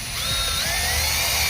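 A power drill bores a starter hole in a truck tailgate with a loud, steady high-pitched whine that holds constant for the whole stretch.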